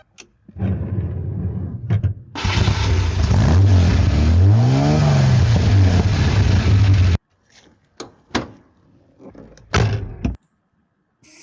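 A 48-year-old Lancia V6 car engine revs up and falls back in one rising and falling sweep, loud and close over a steady idle lasting several seconds. Knocks and clunks like doors come before and after it.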